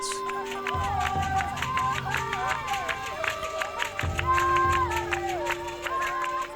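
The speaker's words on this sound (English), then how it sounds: "It's the women singing and clapping that brings them to a frenzy" San Bushman women sing in overlapping high voices and clap in a brisk, steady rhythm during a trance dance, with crisp hand claps cutting through the chanting continuously.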